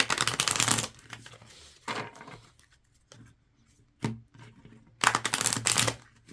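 Moonology oracle cards are shuffled in several quick, crisp riffling bursts close by, separated by quieter pauses with faint handling sounds.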